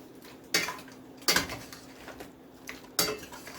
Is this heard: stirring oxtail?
yes